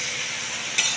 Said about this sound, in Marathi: आता ह्याच्यामध्ये मी कढई गरम केली, थोडंसं तूप, थोडंसं तेल, फोडणीला थोडंसं जिरं